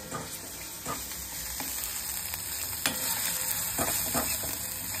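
Onion and masala frying in hot oil in a pan for mushroom bhaji, a steady close sizzle broken by scraping stirs, with no talk.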